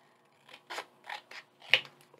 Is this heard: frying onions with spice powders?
no